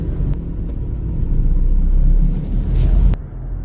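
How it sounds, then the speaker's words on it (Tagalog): Low, steady road rumble from heavy Friday-afternoon traffic on the Skyway, heard from inside a vehicle, with a brief knock near the end and no talking. "dito kami sa Skyway, napaka-traffic"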